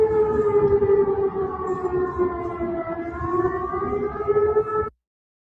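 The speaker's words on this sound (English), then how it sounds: "we're going to show you sirens as well" Air raid sirens in Iran wail loudly and steadily for about five seconds, a sustained droning tone with rich harmonics and no voices, cutting off abruptly at the end.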